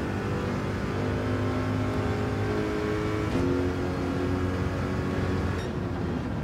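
A race car in Gran Turismo 7 roars under full throttle, its engine note climbing steadily with a brief shift near the midpoint, loud and continuous, with no talking.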